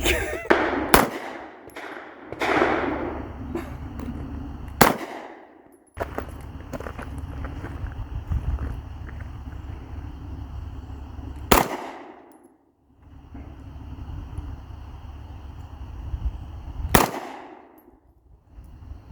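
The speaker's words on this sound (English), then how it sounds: "Try a follow-up shot, 2 shots at once." Sharp pistol shots from a Smith and Wesson Shield Plus 2.0 fitted with a CMMG .22 LR conversion kit, about five cracks spaced irregularly over quiet range ambience with faint clatter in between.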